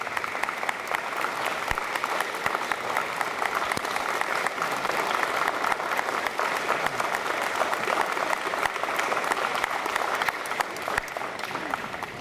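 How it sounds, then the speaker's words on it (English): An audience at a county history festival gives a sustained round of applause for veterans, dense even clapping that holds steady throughout without talk. "let's give a good hand of applause for all the veterans that are here today."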